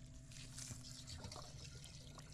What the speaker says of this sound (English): continue to fill it with water.